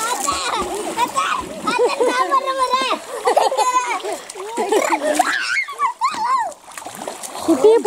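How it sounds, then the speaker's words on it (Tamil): A child pours and splashes water for bathing, making irregular splashes and trickles up close while children's voices chatter loudly over them throughout. "குட்டி இப்ப தண்ணி பிடிச்சி விடுறான் நீங்க குளிக்கிறது."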